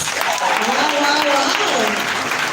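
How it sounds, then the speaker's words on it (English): Loud, continuous applause from an audience at a company launch event in Zambia, with voices and music-like tones mixed in under the clapping. "let's give them a round of applause"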